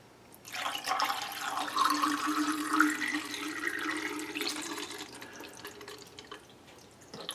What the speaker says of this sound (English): So this is part B of Dye-Fine.